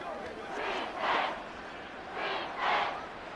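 A stadium crowd in a Madden 24 simulated Falcons vs Buccaneers game roars in two swelling waves, rising and falling at a moderate distance.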